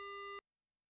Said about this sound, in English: The phone clicked as he hung up